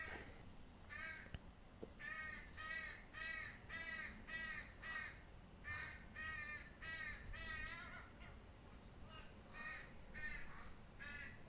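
Repeated harsh crow caws in bursts, several calls in a row with short pauses, fairly close and loud over outdoor background noise.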